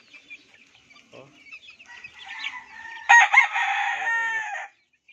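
Chicks and chickens cluck and cheep softly at first, then a rooster crows loudly and close by, the call held for over a second before it cuts off.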